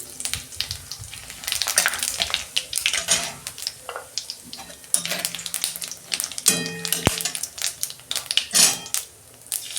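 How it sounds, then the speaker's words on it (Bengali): Whole cumin seeds with cinnamon, cardamom and cloves crackle and sizzle in hot oil, a busy close hiss broken by clinks and scrapes of a spoon against the pan. "এই যে গোটা জিরে দিচ্ছি"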